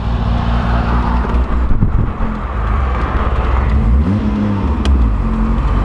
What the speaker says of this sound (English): these Bridgeports really like to bog down, don't they?